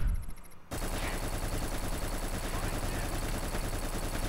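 Gunfire in the video game Black: after a brief pause comes sustained loud automatic fire, a dense rapid stream of shots over game music, with no talk.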